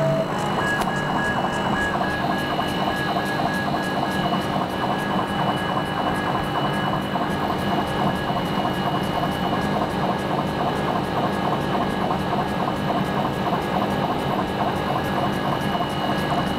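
A 100-watt laser engraving glass gives off a constant mechanical hum with a steady rhythmic ticking, probably fans and the moving head, holding at an even, fairly loud level with no speech.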